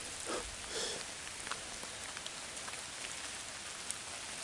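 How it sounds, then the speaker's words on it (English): Steady rain pours down outdoors near dustbins and a bush on the Norfolk Broads, a continuous hiss of drops on surfaces with no voices, holding an even level throughout. "it's proper raining now"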